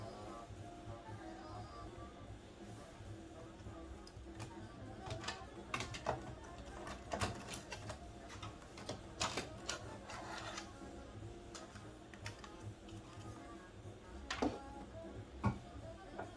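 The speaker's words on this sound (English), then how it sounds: "I'm going to remove these 2 screws, which will give me a look into this well and the mechanism right behind it." Screws being removed from a Kenwood KX-550 cassette deck: quiet close-up clicks, ticks and small metallic scrapes of a screwdriver working on the casing, irregular and faint, with no talking.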